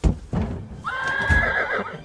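A horse whinnies loudly and close, a long shrill neigh after a couple of soft thumps, heard on its own without talk.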